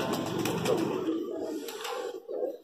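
Soft cooing and fluttering of a high flyer pigeon close by, a low murmuring call repeated over a faint background rustle.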